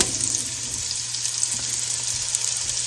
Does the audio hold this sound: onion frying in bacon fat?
yes